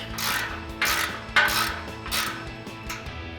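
Ratchet tightening a Corsa exhaust pipe clamp on a 2019-2023 RAM 1500 dual exhaust install, a few close bursts of quick metallic clicking in an uneven rhythm with short pauses between strokes.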